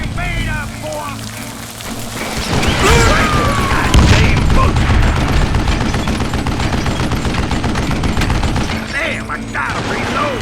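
Rapid gunfire and shots crackle through a Call of Juarez: Gunslinger Western shootout in a video game, dense bursts layered over music and effects, loud and near, with a voice speaking briefly.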